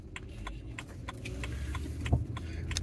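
A BMW E90 328xi engine runs smoothly, a quiet, low, even hum with no talking.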